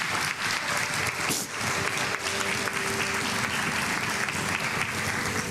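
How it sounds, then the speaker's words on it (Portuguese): A church congregation applauds loudly and steadily, a dense wash of clapping from many hands that fills the room for the whole stretch without pause. "Então aplauda bem forte o nome do Senhor Jesus"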